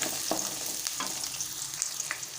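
Shallots and green chili sauté in a pan for a fish thokku, giving a steady, soft sizzle with faint scattered pops and no voices.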